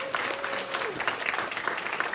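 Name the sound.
applause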